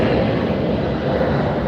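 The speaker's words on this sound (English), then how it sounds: "I hear a really loud airplane." Asiana Airlines airliner passing low overhead, a loud, steady broadband engine roar that fills the whole clip without a break.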